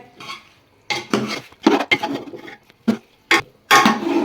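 Chicken and vegetable rice is mixed in a metal pot with a spoon, irregular scraping and clanking strokes in uneven bursts with brief pauses between, close and crisp with no talking.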